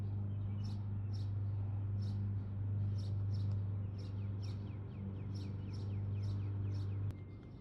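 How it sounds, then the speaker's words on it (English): A purple finch at a backyard safflower feeder gives a series of short, thin chirps repeated about every half second, faint over a steady low mechanical hum. "Here's a purple finch."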